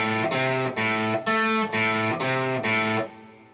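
Electric guitar slowly picking a lick, a run of distinct sustained single notes with slight grit, picked one by one in an even rhythm and ringing out at the end.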